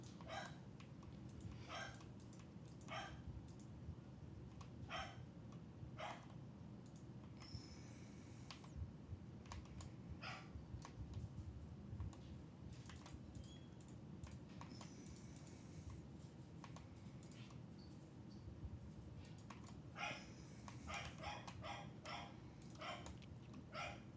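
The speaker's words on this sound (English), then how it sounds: "my dog is freaking out about something" A dog barks in faint, scattered bursts against a steady background hiss, with a tighter cluster of barks near the end.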